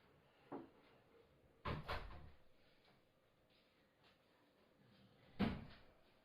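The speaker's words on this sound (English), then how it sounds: "I'm going to close my door." A room door closes in a quiet indoor space: several soft knocks and thuds, a firmer bump near the middle and a louder closing thump toward the end, with no talk.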